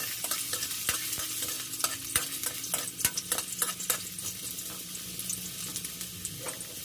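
Sauce for sweet and sour tambakol fish sautéing in a pan, with a continuous close sizzle broken by frequent sharp spatula scrapes and clacks against the pan, steady and moderately loud throughout.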